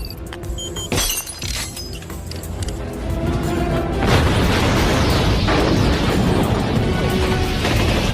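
A planted explosive blows up in the Bond film Tomorrow Never Dies: a rolling, crashing blast with debris and breaking sounds that swells into a sustained loud roar, heard alone without talk.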